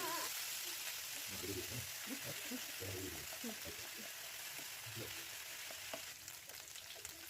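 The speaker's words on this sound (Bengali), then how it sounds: "এবারে আমি পেঁয়াজ রসুনের পেস্ট দিয়ে দেব। পেঁয়াজ রসুনটাকে আমি লালচে করে" Onion and garlic paste fries in hot oil with a steady, close sizzling hiss that runs unbroken through the whole stretch, while a voice talks faintly underneath.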